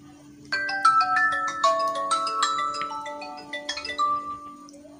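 A budget smartphone powers on and plays its startup jingle, a bright, loud cascade of chiming synthetic notes lasting a few seconds over a faint steady hum, with no talking.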